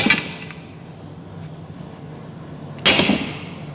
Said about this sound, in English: Now, John, all you have to do is hit in the right spot.